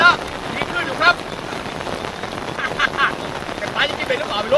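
Night rain falling over a remote abandoned pond in a valley during a fishing trip, a steady hiss of drops with some wind buffeting the microphone and a few louder gusts.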